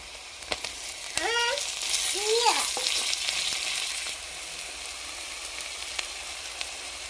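Garlic and green chilli sauté in hot oil with onion and tomato, a close, continuous crackling sizzle that swells midway, with a few brief chirping tones and light utensil taps.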